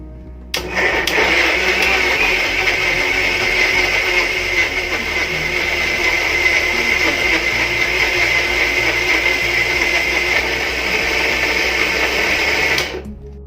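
Pancake batter being mixed with a motorised mixer, a loud, steady whirring drone that runs almost without change and stops abruptly at the end.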